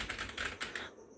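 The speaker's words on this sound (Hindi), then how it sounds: "ये टाइपिंग हो रहा है।" Rapid typing on a USB keyboard connected to a mobile phone, with a quick run of close, crisp key clicks lasting about a second.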